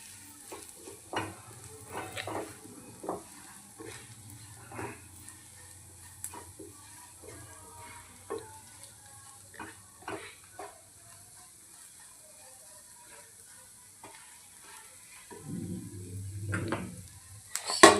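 Roasted peanut powder sautés in oil and ghee with a soft, low sizzle while a spoon scrapes and taps the pan in scattered strokes, growing louder toward the end, no talking.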